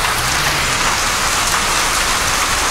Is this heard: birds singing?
no